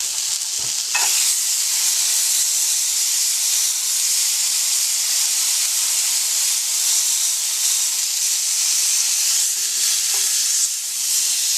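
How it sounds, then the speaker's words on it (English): London broil steak searing on its side in a hot pan, a loud, continuous close-up sizzle and hiss that holds steady throughout, with a brief clunk near the start. "now I'm going to quickly sear this thing on its side."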